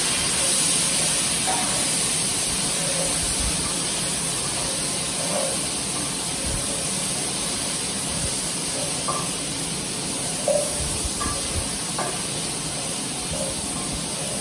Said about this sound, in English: Saute nicely. Go on stirring.